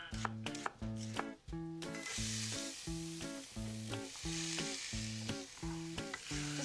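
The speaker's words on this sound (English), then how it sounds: "Gently cook the onions till they're soft" Sliced onions fry in olive oil in a pan with a steady hiss that rises after the first couple of seconds and continues under rhythmic background music.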